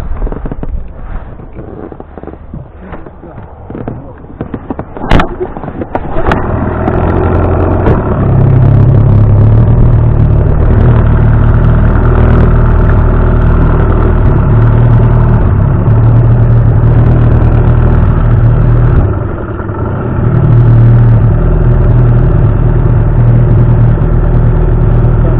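Outboard motor pushing an inflatable PVC Kaiman 330 boat while pike fishing; a click and sharp start near five seconds, then a loud, steady engine drone that carries on close by to the end, dipping briefly around twenty seconds.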